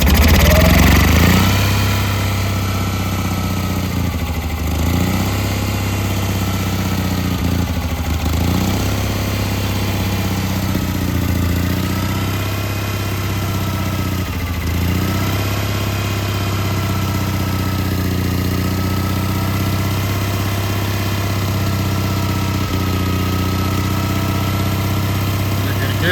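An old Onan generator engine runs steadily after a cold start on choke, with a constant low, throbbing drone and a slightly uneven rhythm close to the microphone. Some faint muffled talk can be heard beneath it.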